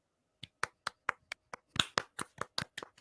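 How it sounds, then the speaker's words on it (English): A single person clapping a round of applause on a live stream, a dozen or so sharp close claps in an uneven rhythm that speeds up toward the end, isolated against near silence. "It's a round of applause."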